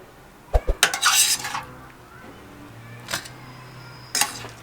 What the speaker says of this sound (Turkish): Şimdi sotelediğimiz patlıcanlarımızı tepsimize bu şekilde koyalım, güzelce soğutalım.